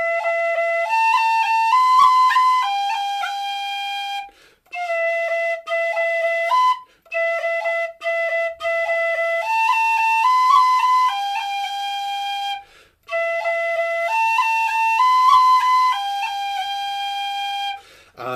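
Tin whistle playing the Lilting Banshee tune with four long rolls, bright clear ornamented phrases in repeated bursts separated by short breaths, loud and close and played alone.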